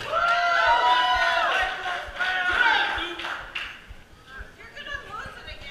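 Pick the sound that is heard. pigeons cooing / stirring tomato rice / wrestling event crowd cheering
wrestling event crowd cheering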